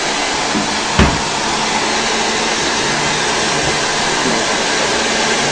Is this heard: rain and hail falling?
no